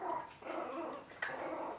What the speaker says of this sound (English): And a little puppy growling because he don't want nobody eating from his bowl.